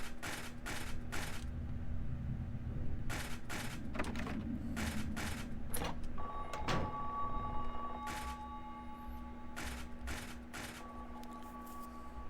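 A payphone rings in the horror video game Silent Hill 3, faint repeated bursts of ringing over a low droning game ambience.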